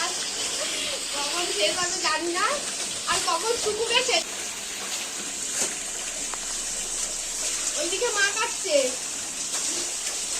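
Soaked clothes are washed by hand in water, with splashing, sloshing and wringing sounds under a steady hiss, while someone talks over it at close range.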